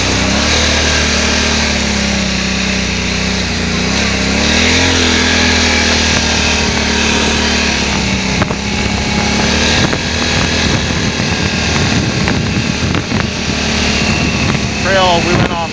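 A Can-Am Renegade 570 XMR four-wheeler ATV rides along a muddy trail, its engine droning loud and continuous, the pitch rising and falling as the throttle changes.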